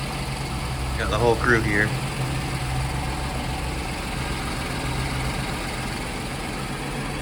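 A 1953 Mercedes Adenauer engine idling steadily, a low even rumble running under people talking nearby.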